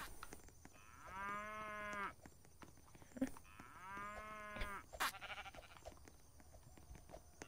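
Two long, drawn-out cow moos in the video game Roblox, one after the other and moderately close, with faint clicks and background noise between them.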